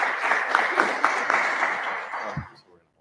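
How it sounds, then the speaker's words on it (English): Audience applause at a student senate election debate: steady clapping that fades out over about two and a half seconds, ending in near silence. "Reminder to hold the applause."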